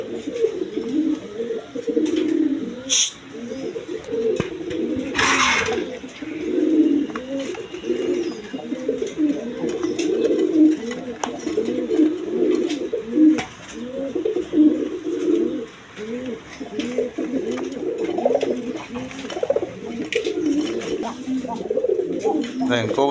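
Pigeons, including a pair of red gorra pigeons, coo in continuous overlapping rounds close at hand, with someone talking at points over the steady cooing.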